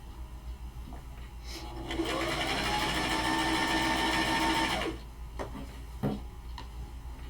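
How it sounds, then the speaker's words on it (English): Sewing machine stitching cotton, its motor whirring up to a steady, fairly loud buzz for about three seconds before stopping, with quieter handling clicks before and after. "If the sewing machine is too loud, I'll mute it."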